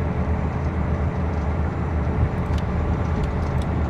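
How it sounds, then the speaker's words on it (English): Inside the cab of a Freightliner FLD truck in American Truck Simulator, a constant deep engine rumble with rattling cab vibration, steady and fairly loud throughout, with a few faint high clicks. "you can actually hear this shaking inside the cab"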